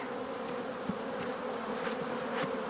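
Honeybees buzzing steadily at an opened hive during a split, with a constant low drone and a few sharper passing buzzes, no talking.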